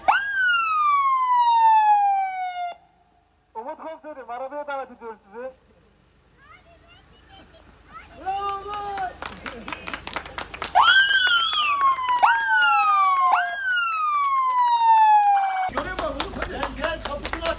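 A police car siren wails in rising and falling sweeps, cutting in and out with brief gaps, joined later by clapping and other noise.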